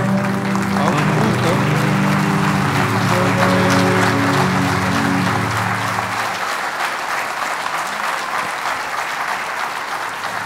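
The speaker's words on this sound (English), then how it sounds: "give them a big round of applause." Sustained applause from the audience at a science and technology awards ceremony, a big steady ovation that goes on throughout, with music playing underneath for the first six seconds.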